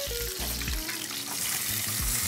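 Chili fries in lard in a pan, giving a steady, dense crackling sizzle that stays even throughout, with occasional stirring knocks underneath and no voices.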